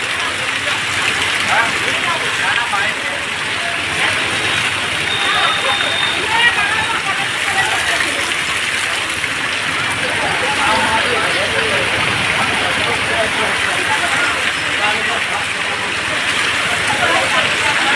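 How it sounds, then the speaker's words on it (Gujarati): Heavy village downpour pounds steadily on roofs and ground, a dense, continuous roar of rain with a faint engine rumble nearby and someone talking over it. "પોણી ધોધમાર આવે છે."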